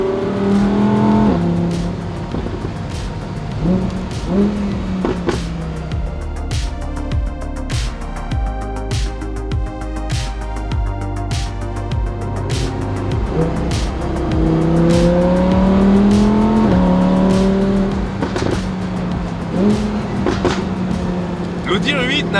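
An Audi R8 V10 Plus Spyder drives with its V10 engine revving up and down through repeated gear changes, loud and close, with brief sharp bursts and talk over parts of the run.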